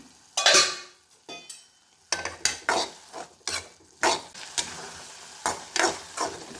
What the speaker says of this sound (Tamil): இப்போ நான் நல்லா வதக்கி விட்டுக்கிறேன் தக்காளி நல்லா சூப்பராக வெந்துருச்சு